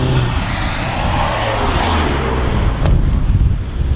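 A GTI car approaches and passes outdoors, a broad rushing roar that swells near the end under heavy, constant wind buffeting.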